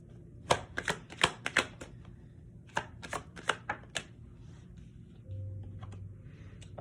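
Chakra wisdom oracle cards being shuffled by hand, a run of crisp riffling bursts and slaps in quick clusters, close and fairly quiet, ending in a low steady hum.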